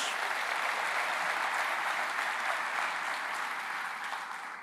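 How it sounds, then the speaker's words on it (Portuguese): Steady applause from a church congregation during a sermon, a dense wash of clapping that holds evenly for several seconds before easing slightly at the end, with no voices over it. "Você pode aplaudir a Jesus?"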